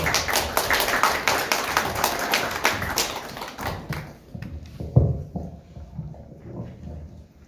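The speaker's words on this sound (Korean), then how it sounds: "우리 박수로 맞이해 주시기 바랍니다." Audience applause at a Korean traditional culture arts committee gathering, welcoming a committee chairman to the stage: a dense burst of clapping that fades after about four seconds into scattered taps and a few thuds.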